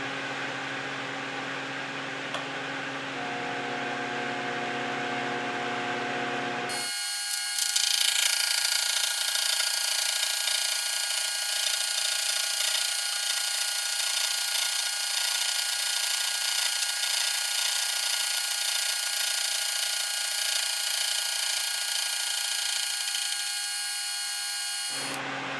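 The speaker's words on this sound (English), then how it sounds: "I just want to put a screwdriver slot in this bolt for the handle." A milling machine with a 3/8 collet block cuts a screwdriver slot into a bolt, a steady loud whine that holds evenly for about eighteen seconds after a quieter motor hum, close and with no speech.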